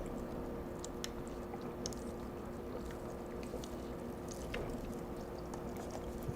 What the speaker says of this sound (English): I chew so loud.